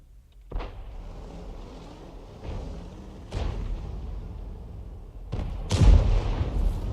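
M53/M55 self-propelled artillery firing in a video game: several heavy booming shots spaced a few seconds apart, each a sharp loud blast followed by rumble, with the final round the loudest.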